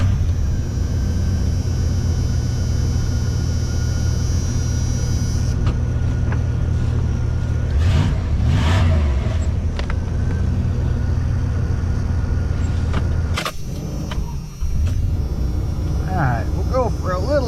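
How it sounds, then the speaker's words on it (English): A second-generation Dodge Ram truck engine cranks and fires, then settles into a steady low rumbling idle, with a few sharp clunks and rattles along the way. "fire this truck up"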